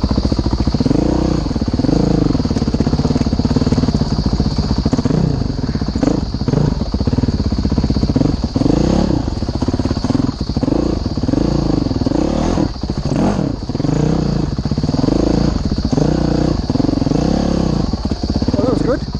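A modded 2011 Honda CRF 450X motorcycle rides along a trail, its engine loud and close with steady throttle swells and rumble, plus clatter from the bike, while a rider talks over it.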